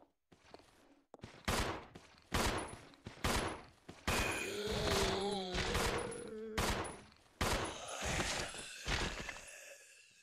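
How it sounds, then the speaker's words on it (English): Video game gunfire: a rapid series of sharp, loud shots in uneven bursts, with a mechanical clatter between them and faint background tones. "That is how you shoot a gun."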